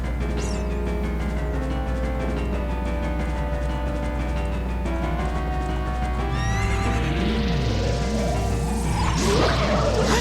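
Horse neighs and hooves clip-clop in The Legend of Zelda: Ocarina of Time's Forest Temple, a loud game whinny over steady rhythmic hoofbeats with looping music beneath and a rising sweep near the end.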